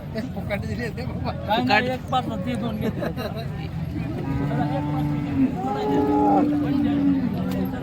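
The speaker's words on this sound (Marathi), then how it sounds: "अण्णा ढाणींच्या धावणीतल्या गाय आहेत दुसऱ्या तिसऱ्या व्याताच्या गाय आहेत" Several cows moo nearby at a cattle market in Modnimb, long low calls rising over a busy background of people talking.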